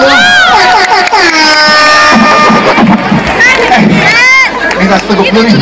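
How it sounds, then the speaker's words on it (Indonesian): A large concert crowd celebrating the city of Palu's anniversary cheers and shouts loudly, with whistles and horn-like blasts rising over the roar and a voice talking over the din. "tepuk tangan dulu buat Kota Palu"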